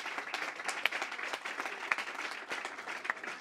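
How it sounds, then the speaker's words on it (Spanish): Applause rises from a lecture audience after a talk by a Nobel laureate in Chile: a steady, fairly faint wash of many hands clapping, with a few sharper claps standing out. "Bien, sí, pueden aplaudir."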